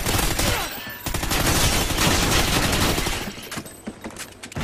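Video-game gunfire rattles in a dense, continuous volley of rapid shots, loud and close, with shotgun blasts mixed in and tapering slightly at the end.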